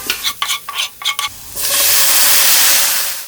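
Minced onion and garlic hit olive oil in a pan: a few quick scraping stirs, then a loud, close, continuous sizzle that swells and holds steady to the end.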